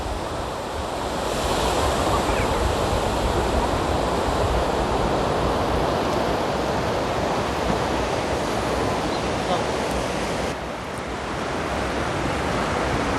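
Steady, full-bodied surf washes continuously onto a seashore on a cloudy evening at sunset, close and loud with a faint wind rush and no voices.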